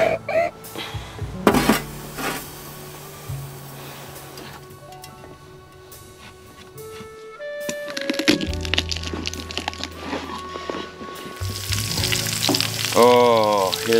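Fish sizzles and crackles steadily in a hot pan outdoors in minus-50-degree cold, with occasional clatters and scraping from cookware, growing louder toward the end.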